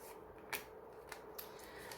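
Tarot cards are handled and laid down on a table in a few soft, quick slaps and rubs, faint and close, with no voice.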